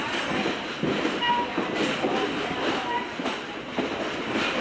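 A diesel train on the Adirondack Scenic Railroad, one of the oldest operating diesels in the United States, rolls steadily along the rails with a continuous rumble and rhythmic clatter, heard from on board at moderate level.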